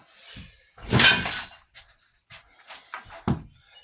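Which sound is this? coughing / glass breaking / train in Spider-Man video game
glass breaking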